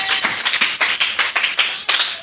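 A church congregation applauds together to acclaim Jesus Christ, a close, dense burst of many hands clapping in uneven pulses for about two seconds, with no voices above it.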